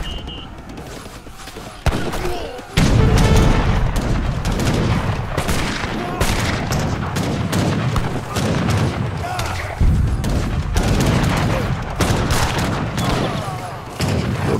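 Mortar shelling in the video game Age of Empires 3 lands as a rapid run of heavy booms and crackling blasts, loud and dense, mixed with battle clatter.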